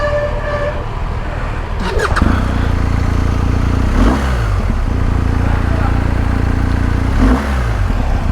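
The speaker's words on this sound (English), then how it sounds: "When you rev it, you can feel the engine move horizontally, the pistons move horizontally." A BMW R 1250 GS motorcycle with a horizontally opposed boxer engine idles nearby and is revved in three sharp blips, each rising and falling in pitch over its steady, loud, close idle.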